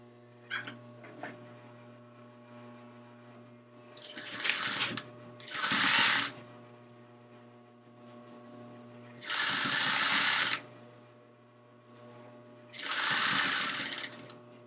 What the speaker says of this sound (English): Just go back on there and finish sewing.